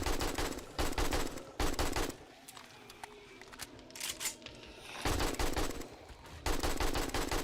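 Rapid automatic bursts of gunfire ring out in 7 Days to Die, loud rattling volleys that stop and start, with a quieter gap of scattered shots and clatter in the middle.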